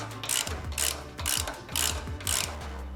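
A ratchet wrench tightens a castle nut on a ball joint of a 1973 Camaro during a pro-touring suspension install, five close clicking bursts in a steady back-and-forth rhythm.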